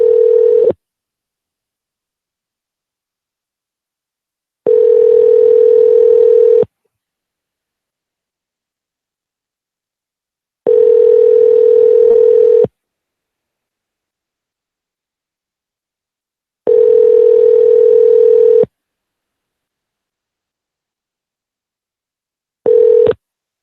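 On a live call-in show, a steady telephone ringing tone sounds in loud, even pulses about two seconds long, separated by roughly four seconds of silence, with no voices.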